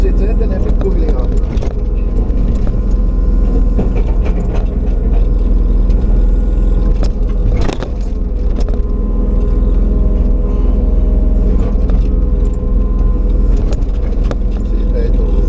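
A Kubota excavator works its bucket while mounding rocky ground, its engine droning loud and steady throughout with a brief dip midway, and a voice talking over it.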